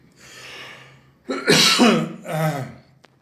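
Two or three harsh, close coughs burst out in quick succession after a quiet breath, loud and raspy.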